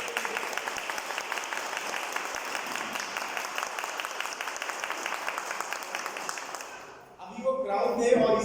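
Audience applause at a Vestige wealth-plan business presentation, steady dense clapping from a large crowd for about seven seconds before it breaks off and a voice comes in.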